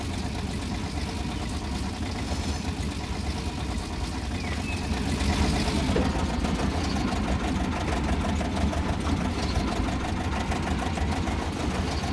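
Corris No. 5 locomotive engine in Train Simulator on the Corris Railway, a steady, close drone that runs unbroken throughout and swells slightly partway through.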